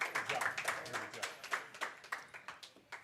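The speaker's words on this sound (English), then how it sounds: "Y'all give her a round of applause coming on up." Light applause at a high school football coaches show for the Huntsville Hornets, a small group clapping in a sparse, uneven rhythm, fairly faint and close.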